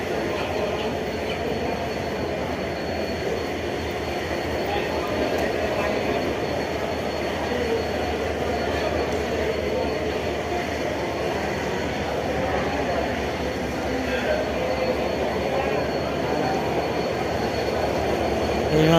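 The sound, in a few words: local train arriving and stopping at Kamalapur railway station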